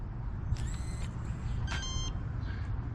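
A digital lock on a box truck entry door gives a few short electronic beeps and chirps, faint over low rumbling background noise.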